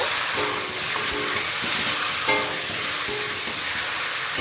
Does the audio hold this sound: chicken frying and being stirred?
yes